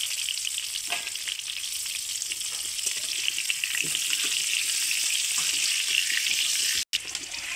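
Potatoes fry in oil already used to brown onions, giving a steady close crackling sizzle with scattered pops and one brief dropout near the end.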